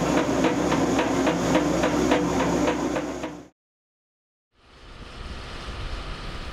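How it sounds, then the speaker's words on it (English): A pipe facing machine cuts across a pipe end, a loud steady grinding drone with rhythmic pulses that cuts off abruptly, then starts back up after a second of silence. "Once contact is made, set the fine feed valve and let the machine do its work."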